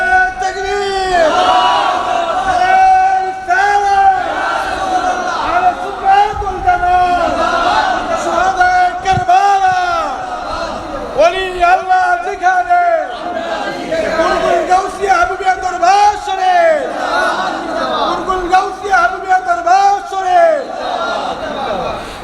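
A large religious gathering answers a takbir call with loud, rhythmic chanting of Allahu Akbar, repeated many times in waves of massed voices close by.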